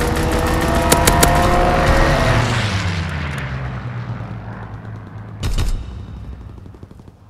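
Aircraft strafing gunfire in the WWII shooter Call of Duty WW2, with a loud burst of rapid shots near the start, a swooping engine-like tone as the plane passes, then a second sharp burst of fire.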